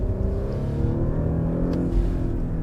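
A 2021 Audi SQ5 Sportback accelerating hard on pavement, its engine holding a steady, strong drone that climbs slightly in pitch, close by and loud with no voices.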